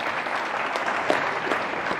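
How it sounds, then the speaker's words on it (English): A crowd at a speech on Africa's creative economy applauds in a soft, continuous patter of claps, fairly distant and even, with a few slightly sharper claps standing out. "I think that deserves a round of applause."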